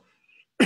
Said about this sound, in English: I'm sorry, this is really not a viral cough.